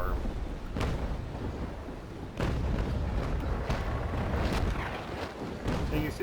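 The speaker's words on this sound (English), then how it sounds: "you see these cannons are a lot more accurate here than what we were using last time" Ship cannons fire in the naval video game Naval Action, a series of heavy booms scattered at irregular intervals over rolling ambient noise of sea and wind.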